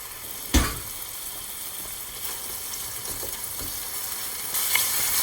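Onions cooking with a spoonful of low-sodium soy sauce in a hot sauté pan for burgers give a steady sizzle, with a sharp clank near the start and a few scrapes of stirring.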